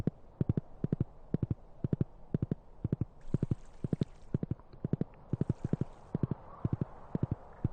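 A horse's hooves clip-clop steadily in the farming video game Stardew Valley. Crisp, evenly paced hoofbeats come in quick rhythmic clusters, close and clear, with two brief hissy patches in the background.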